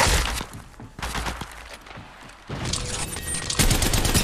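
Close, loud bursts of automatic gunfire in the battle royale game Apex Legends Mobile, with rapid overlapping shots and sharp impacts rising to a heavier barrage near the end.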